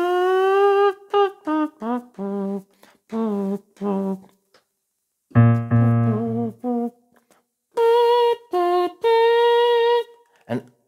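A voice imitates a trumpet with buzzy, brassy mouth notes in short phrases of varied pitch and rhythm, close and fairly loud, with brief pauses between bursts.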